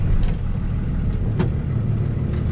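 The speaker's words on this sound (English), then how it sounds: "I'm gonna go ahead and start the truck." A Class B truck's engine runs at a steady low, even rumble throughout, close by, with no voices.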